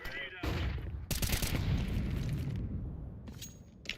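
Video game gunfire rattles in bursts alongside a loud flashbang grenade blast and ringing, with sharp shots near the start and end of the clip.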